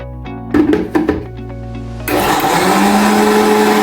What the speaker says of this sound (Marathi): आता उडदाची डाळ दळून घेऊया आपण.